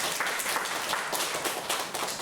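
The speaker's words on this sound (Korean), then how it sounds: "박수도 안 쳐주시네" Church congregation clapping during a Sunday worship service, a dense, steady burst of many hands applauding together for a couple of seconds, with no voices over it.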